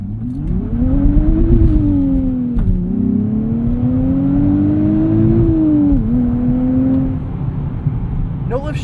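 A 2025 Nissan Z with a twin-turbo V6 and six-speed manual accelerates hard from inside the cabin. The engine note climbs steadily, drops briefly at each no-lift shift, then climbs again as a loud, continuous drone.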